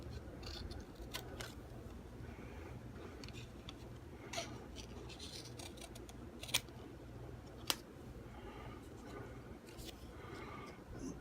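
A guitar headstock decal being cut out by hand with scissors, faint soft snips and small ticks spread across a quiet room, with a few sharper clicks standing out.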